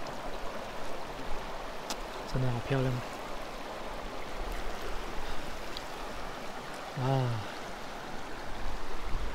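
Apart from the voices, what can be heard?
flowing water of a mountain creek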